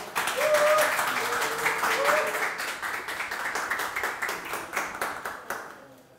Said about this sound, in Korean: 박수로 맞이하여 주시길 바랍니다.